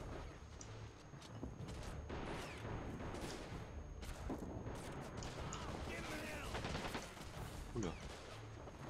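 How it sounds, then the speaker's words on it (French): Continuous battle noise from the Men of War strategy game, with machine gun fire, scattered shots and explosions forming a dense, steady roar for the whole stretch. "ils sont toujours pilonnés par la mitrailleuse"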